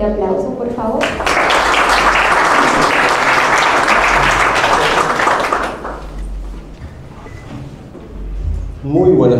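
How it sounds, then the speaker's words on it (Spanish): A crowd at an evening women-in-film art exhibition event applauds a guest being introduced, a loud sustained burst of clapping lasting about five seconds, then fading into room murmur before a voice begins speaking. "Un fuerte aplauso, por favor."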